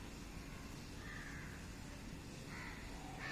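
A crow caws a couple of times outdoors, moderately distant over a steady background hiss, with no voices present.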